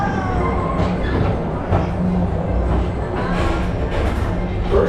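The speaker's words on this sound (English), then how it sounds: "your express train keeps on rolling through the future" A steady, continuous rumble of the Magic Kingdom PeopleMover ride train rolling along its track, with rattling and a faint tonal whine throughout, no pauses.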